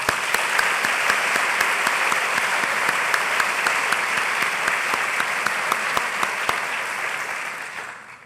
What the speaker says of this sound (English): Please join me in a round of applause for the chairs.